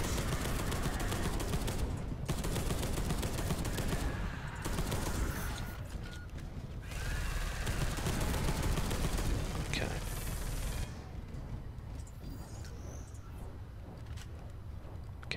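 Sustained gunfire in the video game Space Hulk: Deathwing, with rapid, dense bursts of automatic shots crackling for about eleven seconds before dropping to a quieter background, with some voice faintly underneath.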